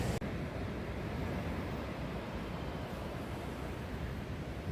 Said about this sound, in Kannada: ಅಷ್ಟೊಂದು ಚೆನ್ನಾಗಿರುತ್ತೆ ಆ ಅಲೆಗಳ ಸದ್ದು.